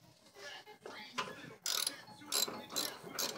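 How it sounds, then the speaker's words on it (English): A 14mm ratchet works on coilover bolts during a Raceland Ultimo coilover install, giving a series of sharp metallic clicks and rasps in short bursts, loud and close, with some softer handling noises before. "you're going to use a 14mm ratchet."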